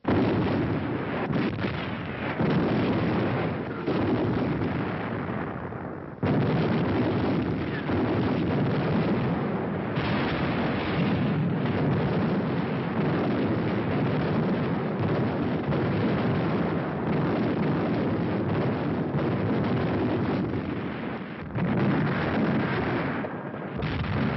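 Heavy long-range artillery shelling with high explosives pounds a besieged city in wartime, a loud, continuous rumbling barrage of blasts and roaring noise with brief gaps, no voices.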